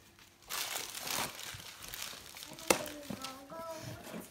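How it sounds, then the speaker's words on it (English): A present being unwrapped, with tape ripped off wrapping paper in crackly, crinkling bursts, and one sharp tear near the middle, as voices talk over it close by. "And then the tape just rip right up."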